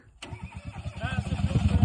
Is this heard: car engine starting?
yes